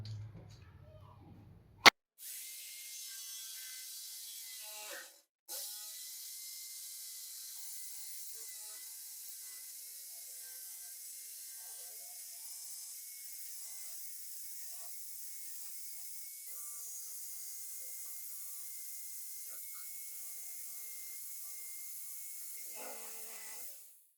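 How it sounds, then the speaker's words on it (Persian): Jigsaw cutting a wooden sunglasses frame, a steady continuous buzzing saw tone running for about twenty seconds after a brief click and short pause, close and fairly loud, with no talk. "من چون ندارم اره فلکه، با عمود بر این رو برش میدم."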